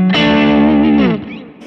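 Electric guitar through a Kemper amp profile with a juicy blues tone: one sustained, overdriven note ringing loud and clear with rich harmonics, then fading quickly, played alone.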